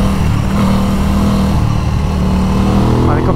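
A motorcycle engine drones steadily under a rider on the open road, a sustained mid-pitched hum with wind rush and slight rises in revs, heard close from the rider's position.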